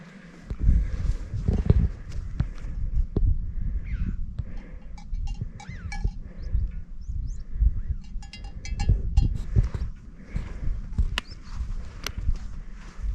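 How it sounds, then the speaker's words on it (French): A flock of sheep stopped in the middle of a foggy mountain trail, with clanking bells, scattered bleats and shuffling hooves close by, an irregular clatter that goes on throughout. "bien au milieu du sentier, de nouveau, dans le brouillard, un troupeau de moutons"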